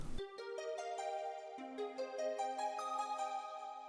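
Aquatic Harp preset on vinyl from the Sonic Academy Ana 2 synth, playing a sustained plucked, harp-like melody whose notes step upward and ring with steady, even loudness, heard alone.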